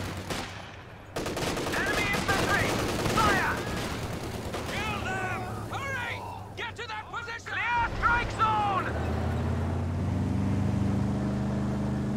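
Machine guns rattle in bursts during a Company of Heroes 2 battle, rapid repeated shots mixed with explosions and engine rumble, while a voice talks over the game sounds.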